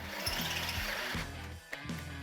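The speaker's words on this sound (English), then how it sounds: "What we're gonna do is just drill through the center of it." A power drill grinds into a steel rivet while a 1968 Chevrolet C10 pickup's rear suspension is being taken apart. The drilling is a faint, steady whir with small rhythmic catches and bites as the bit works into the metal.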